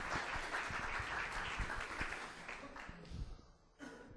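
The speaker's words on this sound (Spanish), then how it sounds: "Lo recibimos con un aplauso también." Faint clapping from a small audience at a Spanish-language discussion event, scattered and steady at first, then thinning out and fading near the end.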